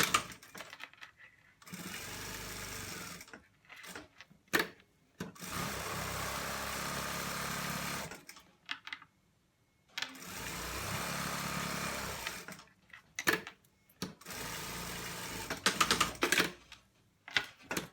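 Sewing machine stitching the side seams of a fleece hoodie runs in four sustained loud bursts, separated by short pauses filled with small clicks and handling noises.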